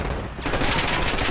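Dense, continuous automatic gunfire in a Call of Duty: Black Ops 6 match, loud and sustained after a brief quieter lead-in, with rapid overlapping shots filling the clip.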